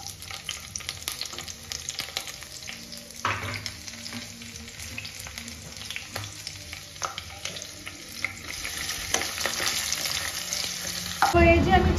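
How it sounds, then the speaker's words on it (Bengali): Whole bay leaf, cardamom, cinnamon, chopped onion and garlic fry in hot oil, a continuous close sizzle with frequent clicks and scrapes of stirring, growing louder near the end. "এবার আমি এতে ফোড়ন দিচ্ছি গোটা একটা তেজপাতা, আর সাথে একটু এলাচ আর দারচিনি, আর দিয়ে দিচ্ছি এই একটু পেঁয়াজ কুচি আর একটু রসুন।"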